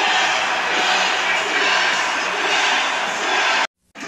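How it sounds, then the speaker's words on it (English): A large wrestling arena crowd at a CSW No Mercy show cheers and roars steadily as a women's title match is announced, a broad sustained wash of noise that cuts off abruptly near the end. "the crowd is absolutely loving this announcement!"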